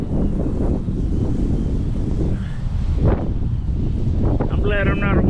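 Strong wind gusts of about 70 miles per hour buffet an outdoor microphone in Kingsport, Tennessee, as deep, rumbling roars rise and fall in surges, with a few faint higher sounds near the end.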